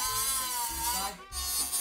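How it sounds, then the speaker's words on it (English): A Dremel rotary tool drills a hole to fit a servo motor, giving a steady, loud, close high-pitched whine with a brief dip in speed near the end. "Okay, so now we're starting to drill."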